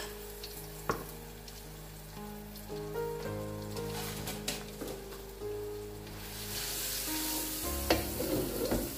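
Garlic and ginger sizzling in hot oil for a restaurant-style lamb balti, a steady crackling fry close by with occasional stirring clinks that grows louder near the end.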